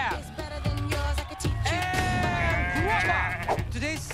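Goats bleating at a goat pageant, several loud wavering bleats in succession overlapping one another, with people talking underneath.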